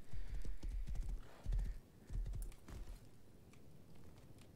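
Horse hooves clip-clopping in the video game Rust, a rapid run of loud, close hoof beats in bursts that thin out toward the end.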